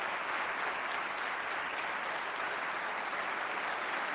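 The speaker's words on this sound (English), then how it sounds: "Well, there comes the clapping." Steady, dense applause from a crowd at a gubernatorial address by Illinois Governor JB Pritzker fills the space, a broad wash of many hands clapping continuously at even loudness with no voices on top.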